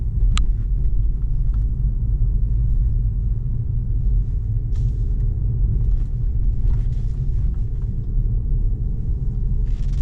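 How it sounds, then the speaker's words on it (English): A BMW 320d xDrive (G20) rolls over a speed bump, heard from inside as a steady low engine and road rumble with a few faint knocks from the suspension, no talk. "One more speed bump."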